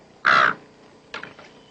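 A crow caws in a comedy film scene, one loud harsh caw followed after a pause by a second, weaker broken call, nearby and clear against quiet.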